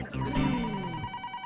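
Telephone ringing indoors in a family home, a steady electronic ring with a sustained tone after an initial burst, close and clear, no talk.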